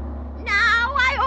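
Cat meowing as a sound effect in an old-time radio drama for children: two short, high, wavering meows in quick succession over a low steady hum.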